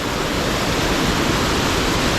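The Thonippara waterfall, heard from right in front of its centre, roars as a loud, dense, unbroken wash of rushing water with no voices.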